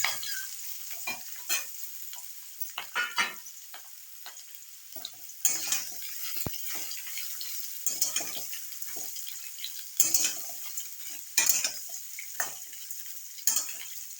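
Chopped ridge gourd sautéing in a pan with curry leaves and chilies, a continuous soft sizzle punctuated by frequent spatula scrapes and taps, close and without talk.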